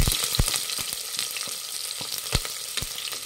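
Sliced onions fry in a pan with whole spices, cinnamon and fennel among them, giving a dense, bright sizzle punctuated by several sharp taps of a spoon.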